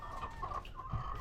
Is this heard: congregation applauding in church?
no